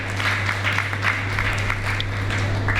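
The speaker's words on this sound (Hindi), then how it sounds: "तो एक बार पवन सर के लिए भी जोरदार तालियां हो जाए" Applause from an audience at a yoga and diet festival's organic farm visit in Narmadapuram, honoring Pawan sir; steady clapping continues over a constant low hum, moderately loud throughout.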